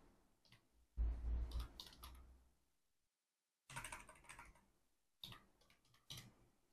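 Keystrokes on a computer keyboard as a search term is typed, with a burst of clicking taps, a pause, then shorter bursts of keys; close, fairly quiet and without talk.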